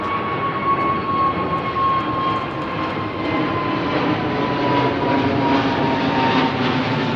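An Airbus A380 departs Heathrow's runway 09R with a loud, sustained jet engine roar and a steady whine holding throughout, no voices over it.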